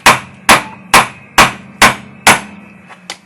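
A hammer strikes hard at the top ball joint on a series 3 Jaguar XJ6's front suspension, six loud, evenly spaced metallic blows about half a second apart, then a lighter final tap.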